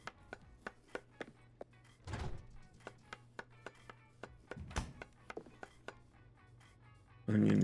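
Onions being diced in Chef's Life: A Restaurant Simulator, a quick steady series of crisp knife chops on a board with a couple of heavier thuds in between.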